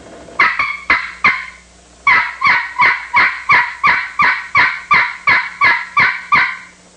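A begging hen scratch box turkey call works out a rapid, urgent boss hen series: two sharp yelps, a short pause, then a steady run of about a dozen loud, raspy clucks, close and alone.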